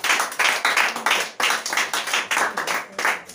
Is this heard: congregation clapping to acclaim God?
yes